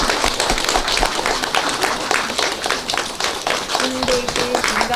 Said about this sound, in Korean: 여러분 큰 박수